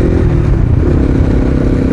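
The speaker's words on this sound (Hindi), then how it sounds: "एग्जॉस्ट का साउंड सुनो," A modified Bajaj Pulsar NS 200 motorcycle revs its aftermarket exhaust close by, a loud, steady rumbling drone that continues without a break and with no voices over it.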